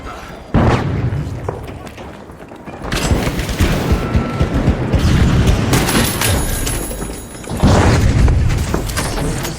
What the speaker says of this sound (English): The flashbang!